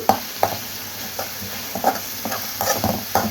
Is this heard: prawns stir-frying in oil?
yes